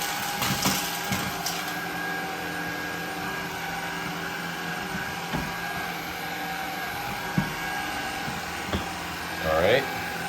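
A Shark Vertex cordless vacuum picks up Cheerios and coffee grounds from the floor with a steady motor drone, and brief rattles and clicks come through as debris is sucked in.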